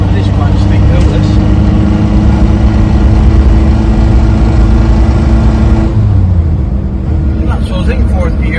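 A 1958 Morris Minor 1000 saloon labours up a steep hill in fourth gear with two people aboard. Its engine gives a loud, continuous, close drone that holds steady throughout, heard from inside the car.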